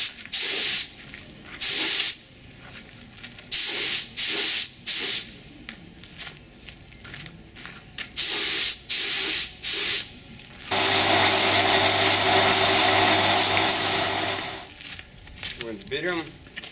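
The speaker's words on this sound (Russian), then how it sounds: "Ну и в последнюю очередь лаком покрываем." A spray gun lays lacquer clear coat over a car's pearl paint in short hissing bursts, then one long steady spray near the end, with a voice talking between the passes.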